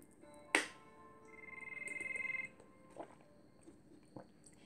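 A mobile phone rings in the video game Is it Love? Gabriel, a single rising electronic ringtone tone held for about a second after a sharp click, clear and alone over faint background hum.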